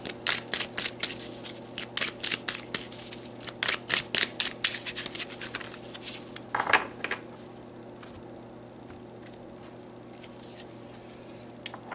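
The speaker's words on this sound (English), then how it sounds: "let's pull some more cards" Oracle cards are shuffled in quick, crisp riffling bursts close by, then drawn with softer slides and taps that thin out into quiet rustling near the end.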